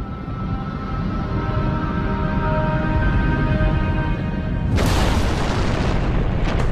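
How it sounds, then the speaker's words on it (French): Colliding rock masses breaking apart, rendered as a documentary sound effect: a deep sustained rumble and roar that swells, then a sudden loud burst of crashing, shattering noise near the end, with no voices. "la collision entre ces masses rocheuses se solde par leur destruction pure et simple"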